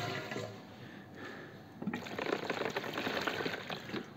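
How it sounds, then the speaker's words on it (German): About a litre of water pours into a Cornelius keg, a steady rushing splash that builds and grows fuller partway through, close by with no talking. "jetzt hauen wir hier nochmal ein Liter Wasser rein"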